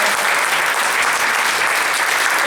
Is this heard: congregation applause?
yes